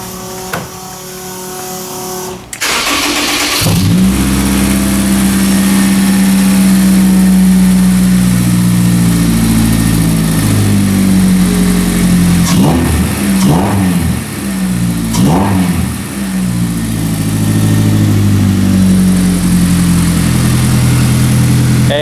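A Honda K-series engine swapped into a BMW E30 with a Motec-managed exhaust cranks and fires, then idles loud and near with a steady drone, and several quick throttle blips rise and fall in the middle.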